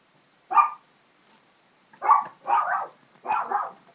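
A dog barks in four sharp bursts: one on its own, then three close together after a pause. The barks are fairly near, with quiet in between.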